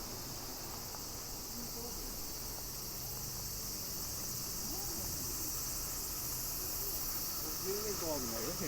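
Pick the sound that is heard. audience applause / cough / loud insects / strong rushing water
loud insects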